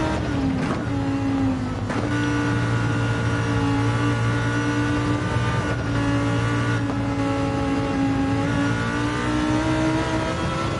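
Race car engine in a racing video game, loud and continuous, with the throttle stabbed several times so the revs jump and sag in quick surges before settling into a steady high drone.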